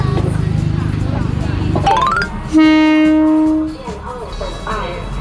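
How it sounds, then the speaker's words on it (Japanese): A train rumbles by up close through a Bangkok market, then a loud horn blares for about a second; voices chatter in the background. "ここを電車通るんですからね、恐ろしいですよね。"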